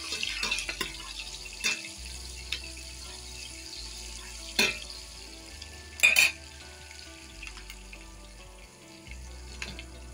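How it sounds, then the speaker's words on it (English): Onions and salt crackle and sizzle in vegetable oil in a pan at a steady low level, with occasional clinks and stirring knocks close by. "Whenever you are frying your onion"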